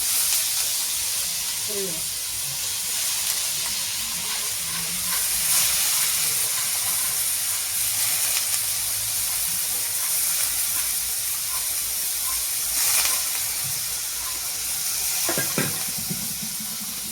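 Soaked, chopped wild kartoli vegetable drops into a hot kadhai and sizzles steadily, with stirring scrapes and a few louder bursts of frying close by, no talking.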